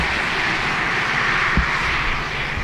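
A Ryanair airliner taking off from the runway at Dublin Airport, heard as a steady, loud, broad engine roar with no breaks.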